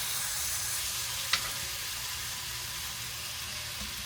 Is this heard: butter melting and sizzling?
yes